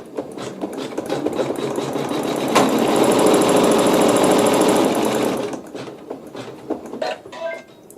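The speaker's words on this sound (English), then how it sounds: "So you'll put it right sides together with your raw edges even and stitch" A sewing machine stitches a seam in fabric laid right sides together, a close, rapid mechanical chatter that runs steadily for a few seconds, then slows to short bursts and stops.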